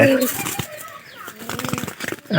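Pigeons let loose inside a room flutter and shuffle close by, with brief wingbeats and soft coos, while a person talks over them.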